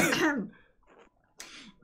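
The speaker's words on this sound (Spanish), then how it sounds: "toses varias alrededor de la mesa. Toda la, familia echando los pulmones." Coughing and throat clearing around a table in the video game Pentiment, a close rough cough followed by quieter fragments and another burst, short and alone.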